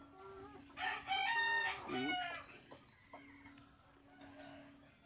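A Jassel Red chicken clucks and gives a loud squawking call up close, followed by quieter intermittent clucks over a faint steady hum.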